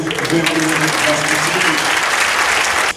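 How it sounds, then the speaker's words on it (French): Loud, sustained applause from an audience at an employees' assembly conference, filling the whole moment before cutting off abruptly. "On peut vous applaudir."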